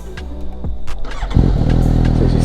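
A 2018 Suzuki GSX-S750 motorcycle fitted with a Yoshimura Alpha T exhaust cranks with a few starter clicks, then fires up into a loud, steady, deep-grunting idle close by.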